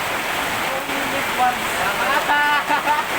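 Very heavy rain pours down in a steady, dense roar during a thunderstorm, with people talking over it.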